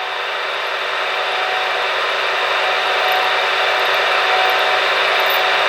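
A power drill bores out hybrid knife handle material, a steady high whirring drone that holds constant and swells slightly toward the end, close up with no talking.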